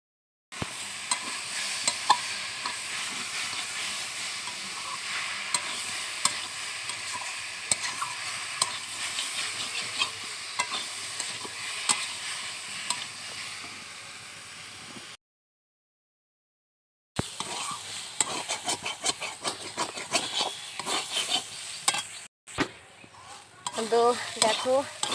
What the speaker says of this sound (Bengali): আর এখন এই কপি ভাজাটা হলে হয়ে যায়